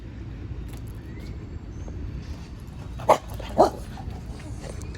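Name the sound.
dog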